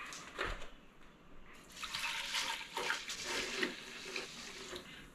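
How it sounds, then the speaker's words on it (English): Water runs faintly and steadily from a kitchen sink tap into a gallon jug, a soft continuous pour with small splashes, while the jug is filled for a vinegar soak to restore rusty cast iron pans. "And we'll fill this gallon up with water."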